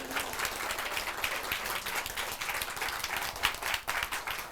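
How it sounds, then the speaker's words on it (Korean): An audience claps for a speaker at a showcase talk, a full, continuous round of applause with many overlapping hands at moderate loudness and no talking over it. "박수 한번 쳐주겠어요"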